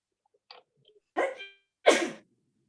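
Two sharp sneezes come a moment apart during a zoning board meeting, loud and close in an otherwise quiet room, with a faint small sound just before them.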